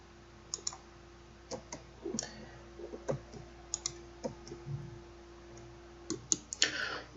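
Sharp, isolated clicks of a computer mouse, a dozen or so at irregular intervals over a low steady hum.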